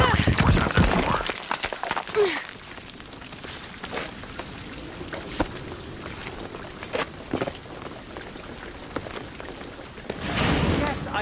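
Rain falling in the video game Shadow of the Tomb Raider, a continuous wash of drops with scattered sharper spatters, heard under spoken dialogue.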